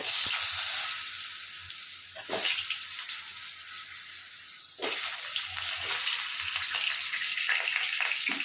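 Raw jackfruit-and-prawn curry cooking: potato pieces dropped into hot oil with tempering spices, giving a steady broadband sizzle with two sharp bursts as more goes in, continuous and fairly loud with no talking.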